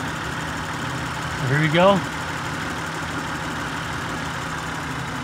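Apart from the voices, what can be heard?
Acura TL engine idling, cylinder 3 disabled for misfire test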